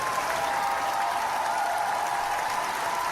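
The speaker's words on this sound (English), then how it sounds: "We get an extra long applause, actually, on this one." Studio audience applauding the hosts of a music biography review show, an even wash of clapping heard at moderate distance.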